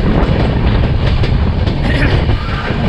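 The Purba Express rolls across the long Son river bridge in Bihar, a loud continuous rumble of wheels and carriages with rhythmic clatter on the rails and no voices.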